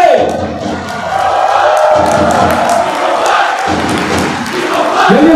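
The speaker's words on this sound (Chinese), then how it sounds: "各位，我哋以掌声欢迎叶鸿辉。" A stadium crowd at a Mongolia vs Hong Kong EAFF E-1 qualifier applauds and cheers Hong Kong footballer Yip Hung Fai, a loud, sustained roar of clapping and shouting with a voice over it.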